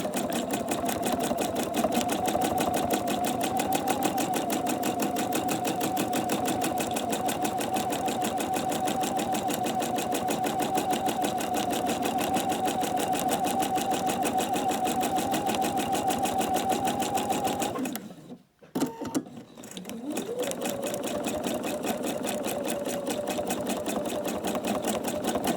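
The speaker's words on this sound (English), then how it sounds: "Just put some stitching across that piece" A sewing machine runs steadily up close, stitching a line across a piece in a continuous rapid whir. Near the end it stops for a moment, then starts again and carries on.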